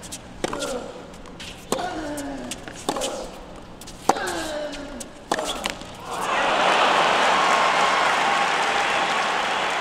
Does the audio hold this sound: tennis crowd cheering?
yes